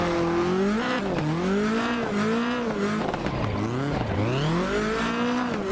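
A Mazda MX-5 in the Assetto Corsa driving game on a hillside drift course, its engine revving up and down in continuous sweeps with shifting pitch and tire squeal, loud and alone without talk.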